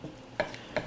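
A spoon or spatula stirs tomato pasta sauce of Roma tomatoes in a pan, giving two quick soft scraping knocks over a faint background hiss.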